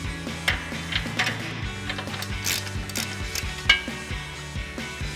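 A ratchet loosens the nut on a control arm cam bolt of a 2024-2025 Toyota Tacoma Ironman 4x4. Close, steady clicking continues throughout, with a few sharper metallic knocks and no voices.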